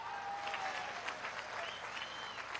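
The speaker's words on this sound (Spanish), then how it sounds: "un aplauso a la ministra Jacqueline Faría." An audience at a presidential farmers' council meeting applauds a minister with steady clapping, while whistles and cheers rise above it.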